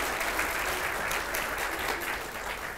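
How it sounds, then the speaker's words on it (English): Applause for the children and young people at a church service, a steady broadband wash of clapping lasting the whole moment without pause or voices. "Let's give them a round of applause as well"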